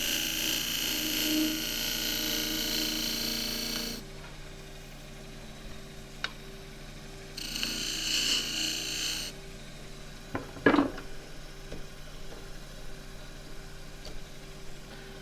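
A spindle gouge cuts on a wood lathe while truing the rim of an endgrain box turned from scrap wood. The cuts come as two bursts of loud, rasping shearing over a steady motor hum, followed by a few quieter scrapes and taps.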